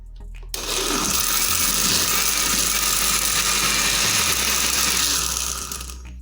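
A blender whirs loudly and steadily for several seconds, grinding almonds with water into almond milk, starting abruptly and winding down at the end.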